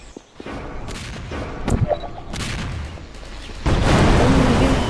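Video game gunfire, scattered sharp shots and booming bursts, some close and some further off, over a rumbling background that grows louder near the end.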